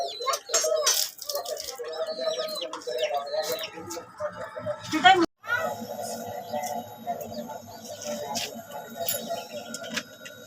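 Chickens and chicks cluck and chirp in a village yard, a steady stream of varied calls with a brief gap midway, and a person talks now and then among them.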